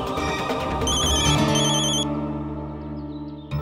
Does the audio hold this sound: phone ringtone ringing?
yes